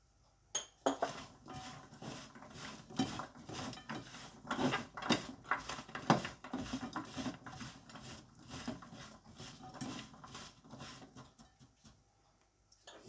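A spoon works chaat masala into potato pakoda batter in a bowl, giving off quiet, irregular scraping and rubbing strokes with occasional soft clicks and no talking.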